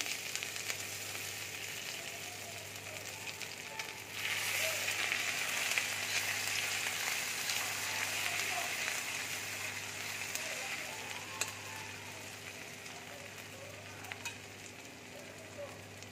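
Grated ginger dropped into hot oil in a pan for a bottle gourd kofta curry, a steady bright sizzle that swells louder partway through and keeps frying evenly without speech.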